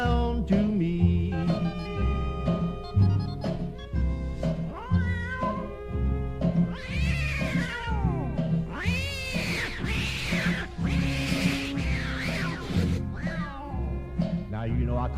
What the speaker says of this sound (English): Now that old tomcat started a fight, and this is the way it all did sound to me.